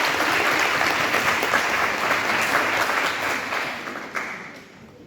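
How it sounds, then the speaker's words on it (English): Sustained audience applause at a leadership and business mentorship event honouring women: dense, even clapping from a full room that holds steady, then thins and fades out over the last second. "I would like us to applaud those women"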